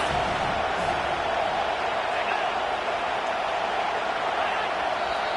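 A packed stadium crowd at an Iowa college football game roars in a loud, sustained wall of noise, steady throughout with no break.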